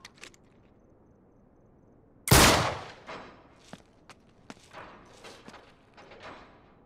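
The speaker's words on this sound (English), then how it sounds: "Back up, I'll shoot the lock." A single loud gunshot blasts at a lock in the video game Uncharted 3, followed by decaying echoes, scattered clanks and debris thuds, after a quiet opening.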